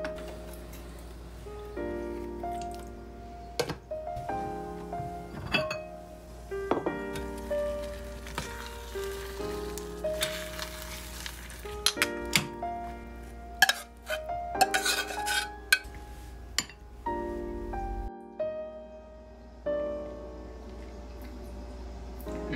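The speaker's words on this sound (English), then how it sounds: "I'm gonna grab a pan here and just heat it up on the stove" Food is stirred in a pan on a stove, with repeated clinks and scrapes of a utensil against the metal over a low steady hum, set against soft background music and no talk.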